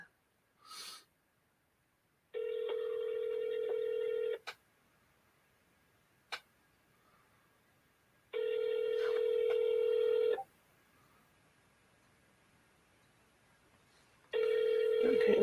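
A telephone rings out in repeated long tones separated by silent gaps, with a brief click or two between rings, as the call goes unanswered before forwarding to voicemail.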